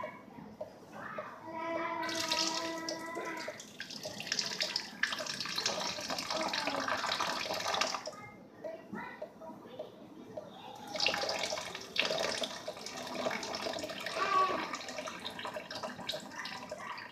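Very hot water pours out of a pot in two long, splashing gushes separated by a short pause, loud and close.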